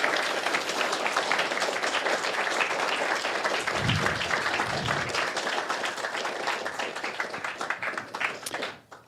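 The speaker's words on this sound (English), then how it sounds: "Give them all another round of applause," Sustained applause from a crowd at a live games industry talk event in Edinburgh, full and steady for about eight seconds before tapering off quickly at the end.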